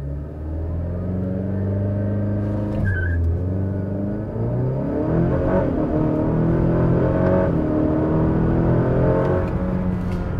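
Honda FK8 Civic Type R with a hybrid turbo and E30 ethanol tune launching from a stop on a cool day, the engine roaring loud and steady as it climbs through the revs, with a brief dip around a gear change.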